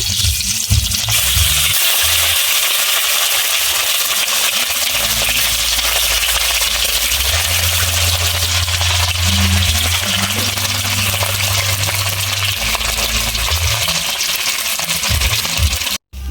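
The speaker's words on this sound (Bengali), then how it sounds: "আমি মাছ ভেজে নিচ্ছি।" Fish fries in hot mustard oil in a wok, giving a loud, steady sizzle and crackle that continues unbroken for the whole stretch, close up.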